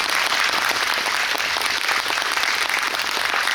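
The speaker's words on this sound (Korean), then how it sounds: "그 감독님과 배우분께 큰 박수 부탁드릴게요" A cinema audience applauds a film director and actors at a screening talk event, a dense steady wash of clapping filling the short stretch without pause, no voices heard.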